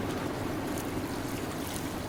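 Waves lap and wash around small fishing boats in the little port of Oia in the Cyclades, a steady near surf under light wind noise with no talking.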